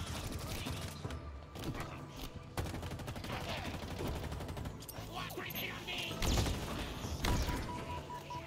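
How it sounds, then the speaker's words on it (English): Turret gunfire in Halo Infinite rattles in a dense, continuous stream under heavy combat noise, with louder impacts and crashes, while a voice talks intermittently. "that turret over there is just wrecking me"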